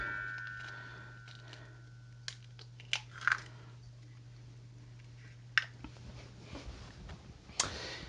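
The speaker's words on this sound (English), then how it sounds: "If you can hear a little bell rattling around in the background, it's the cat keeps walking backwards and forwards through the kitchen" A small bell on a cat moving back and forth through a home kitchen gives faint, scattered tinkles and clicks, spaced seconds apart over a low steady hum.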